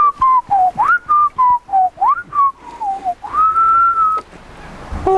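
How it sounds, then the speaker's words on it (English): Someone whistles a bright, melodic tune while watering plants in a home garden, a sequence of short rising and falling notes ending on one long held note, close and clear with no talking. "Whistle while you water."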